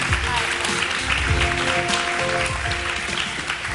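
A morning show studio audience applauds to welcome a guest, a dense sustained patter of many hands filling the room, steady throughout with voices mixed beneath.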